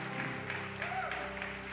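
A church congregation claps in praise while music plays, the applause a soft, diffuse patter under sustained organ-like tones and a faint voice.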